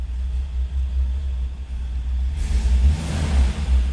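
The 429 engine of a 1966 Cadillac Eldorado convertible runs just after a cold start, a deep steady rumble that swells into a slightly stronger rev partway through, close and alone.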